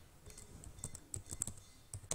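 Code being typed for Visual Basic on a computer keyboard, a quiet, close series of irregular light key clicks and taps, some in quick clusters, with no talking.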